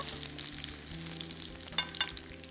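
Capsicum cooking in a pan for farfalle in tomato sauce, a steady frying sizzle with a couple of sharper stirring clicks near the end.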